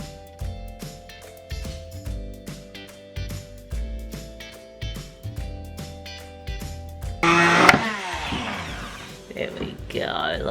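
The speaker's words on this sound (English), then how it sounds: "Get our stick blender." A stick blender whirs through frozen bananas to make banana ice cream, a short loud burst of a few seconds that follows a stretch of rhythmic background music.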